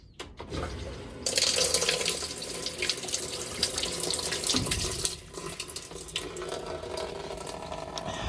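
A Maytag top-loading washer's faucet runs into the wash tub, water splashing steadily at close range after a brief quieter start, with no voices.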